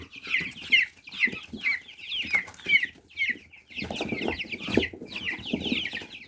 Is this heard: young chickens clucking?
yes